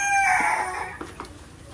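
A rooster crows loudly and close among farm chickens, its long call fading into a few short clucks from the flock.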